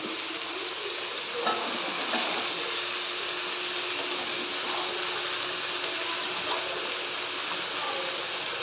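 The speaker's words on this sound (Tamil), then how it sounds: "நல்லா வந்து வதக்கி விட்டுக்கணும்" Cabbage and carrot sautéing in ghee for omelette rice, giving a steady, moderate sizzle with faint stirring scrapes throughout and no voices.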